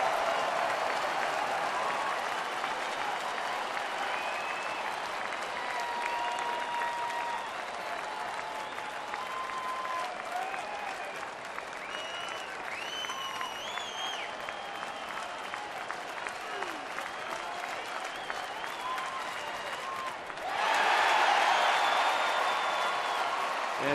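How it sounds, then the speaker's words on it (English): A large crowd roars steadily at a Washington at Milwaukee baseball game in May 2011 after a foul tip, then swells into a louder burst of cheering near the end. "That's the loudest cheer I've heard all year for a foul tip."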